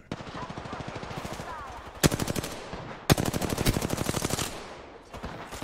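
Sustained rapid automatic gunfire in Apex Legends with steady machine-gun bursts, near and fairly loud, punctuated by a couple of sharper heavy shots.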